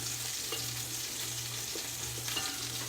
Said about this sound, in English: that's coming to a simmer and it's thickening up